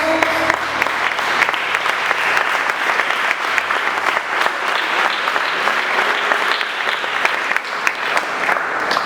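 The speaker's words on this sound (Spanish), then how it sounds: "¿Cuánto le dan un aplauso a Jesús?" A church congregation applauds during a sermon, with close, lively clapping that swells steadily and continues for several seconds. A brief tonal sound opens the passage before the clapping takes over.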